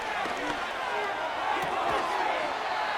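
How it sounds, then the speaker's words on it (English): Stadium crowd noise in Madden NFL 25 during a Jets versus Dolphins game, a dense, steady roar of cheering fans that stays loud and unbroken throughout. "This crowd into it now as we get to 3rd down"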